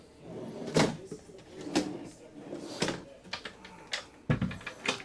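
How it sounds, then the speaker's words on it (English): Soft-closing drawers in a new 2025 Grand Design Lineage Series M 25FW fifth-wheel RV slide and settle with several distinct muffled thumps and clicks at uneven intervals, close by and fairly quiet. "you can tell by when you're opening and closing these drawers that this was built very well"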